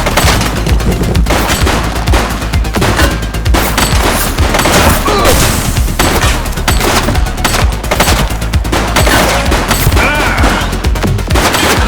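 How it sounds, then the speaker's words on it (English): Gunfire in the police video game The Precinct, a loud, continuous fusillade of rapid automatic and overlapping shots with booming impacts, dense and unbroken throughout. "He's shooting."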